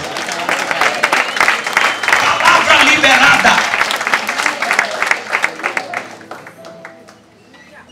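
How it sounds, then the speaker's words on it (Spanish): A church congregation applauds loudly and densely for several seconds, the clapping swelling then thinning out and fading toward the end, with a voice speaking over it. "Vamos aplaudir ao Senhor esta noite."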